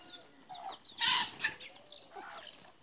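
A chicken clucks close by in a few short bursts, with one louder squawk partway through, over a quiet background.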